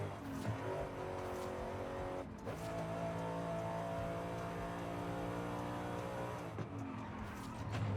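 A performance car on the street with hard tires on the back slides and oversteers, its engine droning steadily with a rising tone and tire noise, loud and continuous throughout.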